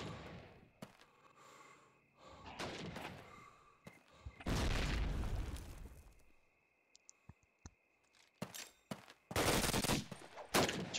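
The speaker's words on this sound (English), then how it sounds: "I feel like the German nades do way more damage than the Allied nades" Gunfire and grenade blasts from a Call of Duty: United Offensive competitive match, with repeated sharp shots and several loud, broad explosive bursts spread across the scene at varying distances.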